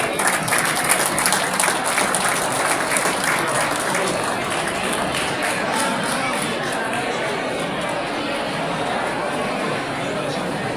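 A crowd at a New Year village assembly in temple grounds applauds a donor being honoured, with sustained, even clapping lasting over ten seconds and a murmur of chatter underneath.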